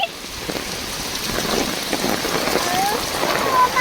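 Heavy monsoon rain pours down in Delhi with a dense, steady hiss of drops splashing on wet surfaces and standing water, while faint voices sound nearby.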